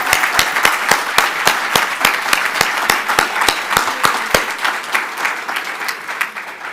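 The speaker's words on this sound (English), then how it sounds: "Let's give a round of applause again to every single last one of these entrepreneurs." An audience at a 2025 pitch competition applauds the entrepreneurs, close, loud clapping in a fairly even rhythm that thins out slightly toward the end.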